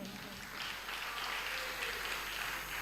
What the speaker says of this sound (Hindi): ऐसे ताली बजाओगे तो नहीं होने वाला, थोड़ा जोरदार बजाओ भाई।